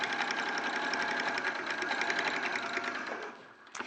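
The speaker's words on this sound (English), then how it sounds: "So we're top stitching the handle." A sewing machine runs continuously, top stitching a fabric handle, with a fast steady mechanical whir and needle chatter that slows and stops near the end.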